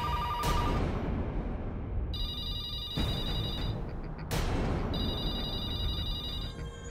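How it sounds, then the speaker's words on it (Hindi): A telephone rings in bursts of bright electronic trills, loud and near, over a dense rumbling background with sharp hits, heard alone without speech. "ये तो उस आत्मा का ही फोन लगता है।"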